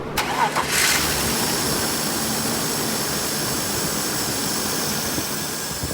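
A BMW E39 with a swapped 3-liter engine fires up after brief starter cranking, then settles into a loud, close, steady running roar that holds for several seconds.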